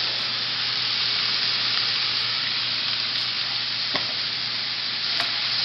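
Vegetables sautéing in a pan seasoned with ground cumin and salt, an even hissing sizzle throughout with a couple of faint clicks from stirring.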